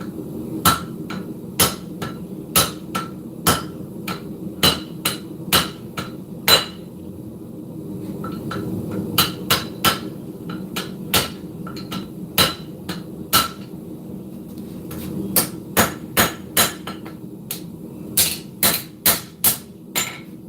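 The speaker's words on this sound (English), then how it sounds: "we're going to use the step down from the anvil and we're going to forge into the finger tool area" A hammer forges metal on the step of an anvil, ringing out in a long series of sharp, close strikes that come in uneven bursts with short pauses between them.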